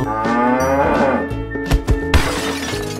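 A cow gives one long, loud, drawn-out moo, followed by a few crashing, shattering thuds near the end.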